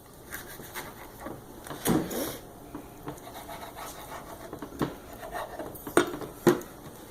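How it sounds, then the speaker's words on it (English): A butcher knife slices through a piece of food on a plate or board, giving scattered scraping and clinking taps of metal against a hard surface, close and fairly quiet. "I'm going to go ahead and cut the first slice"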